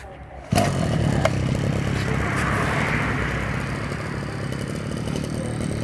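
Small two-stroke engine of a lightweight Japanese shoulder-mounted brush cutter starting with a sharp pull, then idling steadily close by in a continuous buzzing drone with faint clatter.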